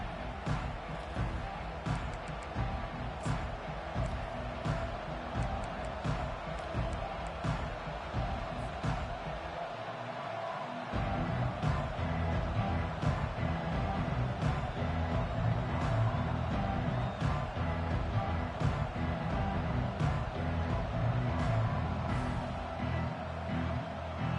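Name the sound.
stadium crowd cheering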